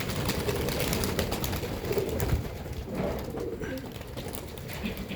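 Breeding pigeons in a loft coo in a dense, continuous low rumble of overlapping calls, steady throughout at moderate loudness, with no one speaking.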